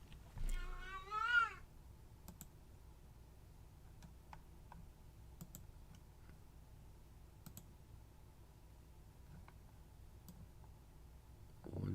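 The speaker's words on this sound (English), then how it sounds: "I have a crazy sounding cat yelling at me right now somewhere." A cat lets out one loud, drawn-out wavering meow at the start. Afterwards, soft scattered clicks and ticks sound in a quiet room.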